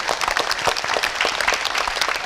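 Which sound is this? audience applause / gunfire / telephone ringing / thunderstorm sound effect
audience applause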